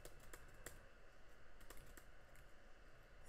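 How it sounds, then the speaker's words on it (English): Rapid keyboard typing, steady clicking keystrokes close up with a few louder taps standing out. "If you hear my keyboard"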